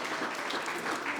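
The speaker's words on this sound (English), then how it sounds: "So please give yourselves a round of applause for even being in the room today." Round of applause from an audience at a community celebration dinner, steady dense clapping filling the room with no break across the whole short stretch.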